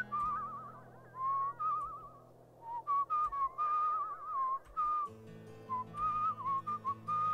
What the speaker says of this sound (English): Left control to whistle.